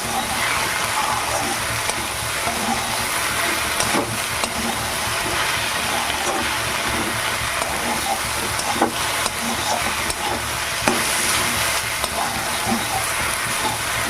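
Spices and chillies frying in oil over a high gas flame, giving a loud, steady, dense sizzle that runs unbroken throughout with no voices.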